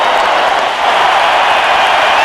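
Baseball crowd at a 2001 World Series game against the Diamondbacks rising in a standing ovation for a player, a dense, loud, steady roar of applause and cheering that fills the whole stretch without a break.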